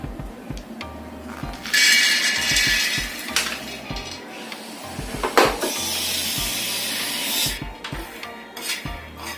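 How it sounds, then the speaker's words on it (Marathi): Peanuts roasting on a hot tawa, stirred and scraped with a metal utensil, giving repeated clinks and rattling scrapes over a faint background hiss. "तवा मी इथं तापत ठेवलाय आपण हे शेंगदाणे भाजून घेऊया"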